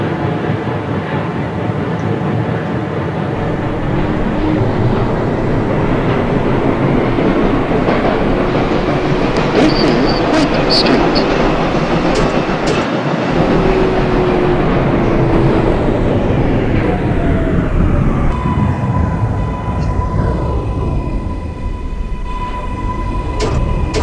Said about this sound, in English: 5 Express train via the 7th Avenue line